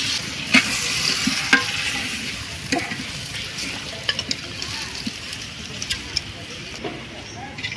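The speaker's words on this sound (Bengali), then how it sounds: "সব কিছু খুব ভালোভাবে আস্তে আস্তে নাড়তে হবে।" Duck curry with ginger paste, turmeric, chili powder and salt being stirred in a clay pot, soft sizzling with scraping spoon strokes and occasional sharper knocks, fairly close and moderately quiet.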